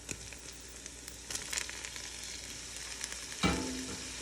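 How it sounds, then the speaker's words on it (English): Bacon and onions sauté together in olive oil for pasta carbonara, a soft, steady sizzle with a brief utensil clank near the end. "We're gonna saute all this together."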